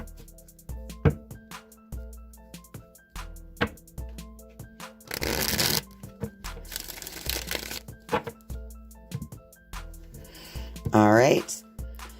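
Tarot cards are shuffled in a few quick riffling bursts, with soft taps and handling sounds between them, while a voice carries on in the background.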